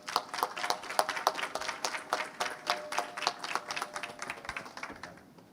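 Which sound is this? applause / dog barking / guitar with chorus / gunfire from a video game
applause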